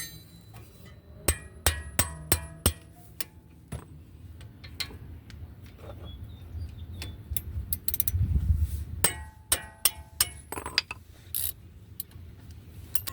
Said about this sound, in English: So I have this 6-point socket here, and I'm going to use that to remove these two bolts.